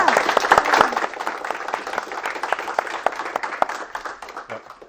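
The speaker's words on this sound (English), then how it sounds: "I'd ask everyone in the room just give a quick round of applause if you could." An audience in a room gives a round of applause, steady dense clapping that holds for several seconds and gradually thins out toward the end.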